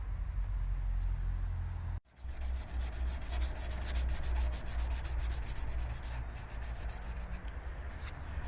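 Steady, close rubbing of sandpaper over plastic putty on an R2 droid leg, outdoors in chilly air, continuous strokes with a brief pause near the start.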